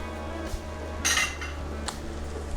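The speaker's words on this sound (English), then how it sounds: "So give a nice stir" Meat sauce with thyme, rosemary and smoked paprika stirred in a pot, a spoon scraping and clinking against the metal in a couple of short strokes over a low background hum; no voices.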